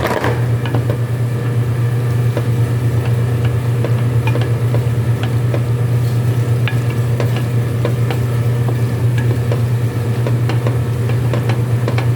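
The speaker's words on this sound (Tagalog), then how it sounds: "Yan, ihalo na natin ang macaroni" Macaroni is stirred in a pan of creamy bechamel sauce. A loud, steady sizzle and bubbling run throughout, broken by frequent small ticks and scrapes from the stirring, with no voices.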